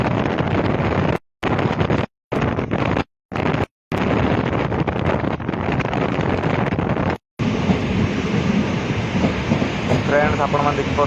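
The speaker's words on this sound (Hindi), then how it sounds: "देखिपे ट्रेन इहादे झारमुंडा स्टेशन के पहुँची आसला" A train pulls into Jharsuguda railway station on a journey from Boudh to Balangir, heard as continuous loud rumbling and clatter with heavy wind buffeting on the microphone and several brief dropouts.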